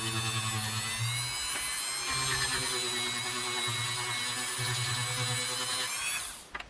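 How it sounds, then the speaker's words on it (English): Dremel rotary tool sanding a doll figure, a steady high-pitched motor whine with a shifting grinding buzz that runs continuously and loudly, then winds down at the end. "A combination of sanding with the Dremel"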